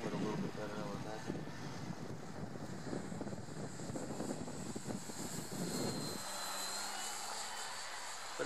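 An Eflite Clipped Wing Cub RC model plane flying outdoors, its electric motor a steady buzzing drone with wind noise on the microphone, holding level before the pitch drops lower near the end.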